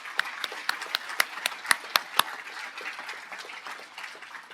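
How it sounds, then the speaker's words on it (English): Applause from an audience at a Dallas ISD athletic hall of fame induction ceremony: a steady wash of many hands clapping, with a few sharper, louder claps standing out early, then settling into an even, moderately loud patter with no talk. "give their dearly departed a round of applause"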